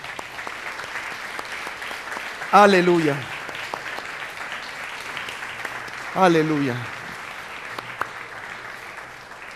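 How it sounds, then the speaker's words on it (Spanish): A church congregation claps steadily in the background during a sermon, a soft, continuous patter, while a man twice calls out loudly over it. "dele un fuerte aplauso al Señor"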